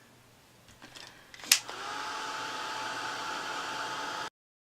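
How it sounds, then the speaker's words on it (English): A hair dryer switches on after a few soft clicks and handling noises, then blows in a steady, close whoosh to dry the glue or paint on a small handmade craft tag. "let me dry this a little bit because I'm messing it up"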